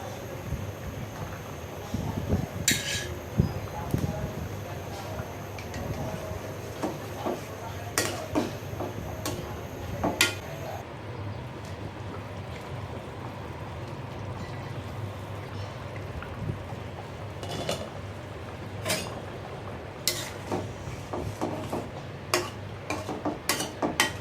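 Rohu fish pressed down into a pumpkin curry in a cooking pot, with sparse sharp metal clinks and scrapes of a utensil against the pot over a low steady background hum.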